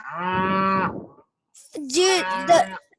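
Cattle on an Ohio beef farm moo loudly and close by, one long low call followed by a second, more wavering call after a short pause.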